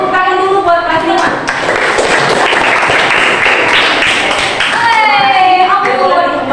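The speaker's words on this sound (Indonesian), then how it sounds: "Tepuk tangan dulu buat kelas 5." Classroom of elementary school children at SDN Buanajaya clap together for class 5, a steady dense patter of hands close by, with children's voices and chatter mixed in at the start and end.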